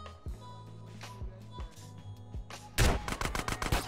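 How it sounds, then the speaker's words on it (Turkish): Gunfire from a pump shotgun in GTA San Andreas: a few scattered shots at first, then a loud rapid burst of repeated blasts in the final second, with other game sounds between. "Lan pompalı ne kadar kötü."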